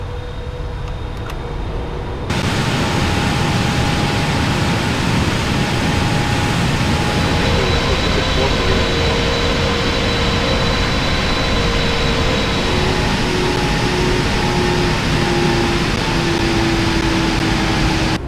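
Airliner in Microsoft Flight Simulator on approach with landing gear lowering: a steady loud broadband engine and airflow roar that jumps up after a couple of seconds and holds, with faint tonal whines, no talk.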